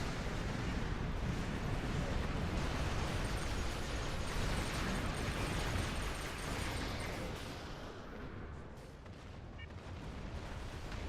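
In a space video game, a Maelstrom weapon on auto fire sets off a dense, continuous roar of overlapping explosions and blasts, loud and unbroken, easing slightly toward the end.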